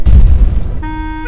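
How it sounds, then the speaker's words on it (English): A loud explosion effect dropped in Sony Movie Studio with a heavy booming onset that rumbles and decays over about a second, followed by a steady electronic tone. "add the explosion sound right here"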